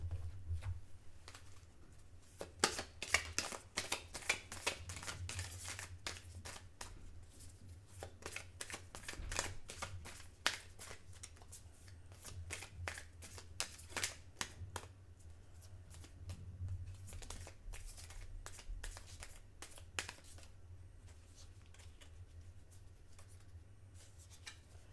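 Butterfly affirmation cards shuffled by hand, a long run of quick papery riffles and flicks in bursts at close range, with a low steady hum beneath.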